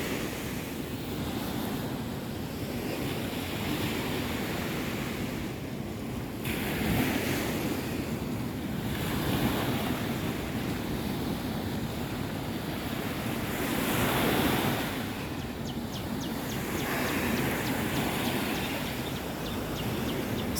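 Ocean waves on the beach at Ujung Genteng, Sukabumi, West Java, a continuous wash of surf that swells and recedes several times, mixed with wind buffeting the microphone.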